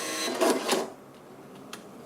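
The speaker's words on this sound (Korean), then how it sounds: "프린터에 오더표가 나오면서 주문이 세이브가 됩니다." A small receipt printer on a point-of-sale system prints an order ticket for a coffee order, giving a couple of quick whirring, buzzing bursts followed by quieter clicks, close by and alone.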